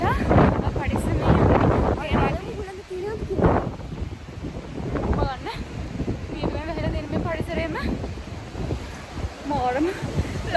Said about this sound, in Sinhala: ඉස්සරහා හුළඟ ගොඩාක් වැඩි කියලා